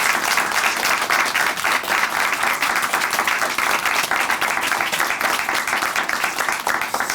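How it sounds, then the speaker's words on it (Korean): Sustained applause from a church congregation during a Korean Christian testimony show, dense and even clapping that holds steady at full volume from start to finish. "다시 한번 큰 박수 보내드릴게요."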